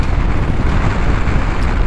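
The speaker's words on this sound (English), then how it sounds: "It is very windy." Strong wind roars loudly and steadily across the microphone during a long drizzly bike ride in the Netherlands, a dense low rumble buffeting without pause and with no voices.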